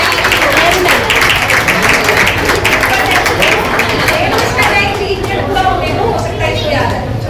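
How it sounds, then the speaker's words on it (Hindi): Loud, sustained applause greets a child at a session, dense clapping filling the whole stretch, with a few voices mixed in. "आइए तालियों की गड़गड़ाहट के साथ इस बच्चे का हम स्वागत करें।"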